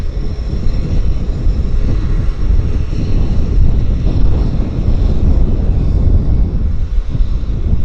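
A Japan Airlines low-cost subsidiary airliner at Vancouver YVR airport gives off a loud, steady engine roar mixed with wind rumble, continuous and fairly close, with no talking over it.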